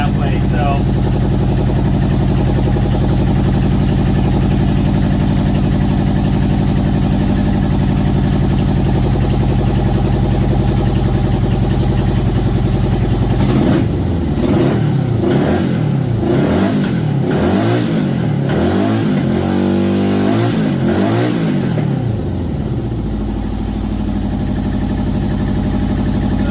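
A Yamaha XJ1100 four-cylinder motorcycle engine idles loudly and steadily, then revs up and down repeatedly in a series of throttle blips before settling back to idle, with a voice talking over it.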